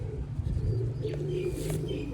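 Rare Kuwaiti teddy pigeons coo steadily in low, rolling tones on a rooftop, a continuous flock murmur with a couple of brief brighter chirps and no talking.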